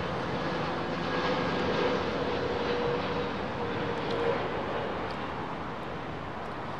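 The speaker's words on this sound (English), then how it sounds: "great to see Egyptair A320neo. Or is it a 319?" An Egyptair Airbus A319 passes at London Heathrow at sunset, giving a steady, broad jet engine roar that holds evenly throughout at moderate distance, with no talk over it.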